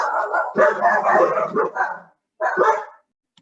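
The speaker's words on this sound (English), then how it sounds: "my dog started barking" A dog barks and yips in a quick run of bursts lasting about two seconds. After a short pause comes a second, briefer volley, fairly close and clear, with no talking over it.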